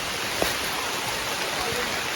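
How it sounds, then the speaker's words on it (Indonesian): Heavy rain falling in a forest in East Kalimantan during an orangutan population survey, a dense, continuous hiss of steady downpour with no breaks and no talk. "Hujan deras"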